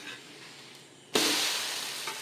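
Cabbage adai, a lentil-batter pancake, sizzles loudly in oil on a pan right after being flipped, a sudden burst of bright crackling frying that holds steady close by with no talk.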